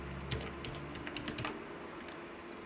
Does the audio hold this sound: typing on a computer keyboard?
yes